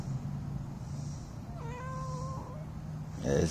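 Cat giving a single drawn-out meow, clear and fairly close, over a low steady background hum, followed by a brief rustle.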